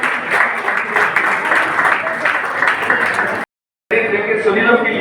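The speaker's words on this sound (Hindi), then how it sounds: "एक बार इनके लिए भी जोरदार तालियां बजाइए।" Loud crowd applause at the Khelo Bikaner youth games closing ceremony, dense sustained clapping for several seconds, a brief dropout, then the clapping continues.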